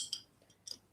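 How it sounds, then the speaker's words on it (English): A spoon stirs tea in a teacup, giving a few faint, bright clinks spaced across a second, close by and otherwise quiet. "This is the sound of me stirring my teacup."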